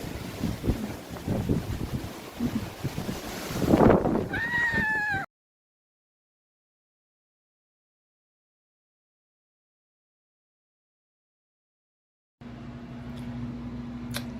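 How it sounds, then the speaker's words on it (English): Strong outdoor wind buffets a microphone with rough, roaring gusts for about five seconds, then cuts to dead silence. A quieter stretch of steady noise with a low hum follows. "And it's super windy outside."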